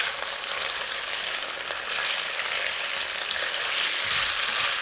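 Floured mixed seafood sizzling steadily in hot olive oil in a pan, a dense, even crackling hiss heard close and continuous throughout.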